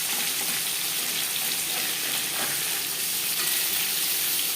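Catla fish slices, peeled, thinly cut and washed, sizzle steadily in a hot kadai over high flame, a dense continuous hiss that stays close and even throughout.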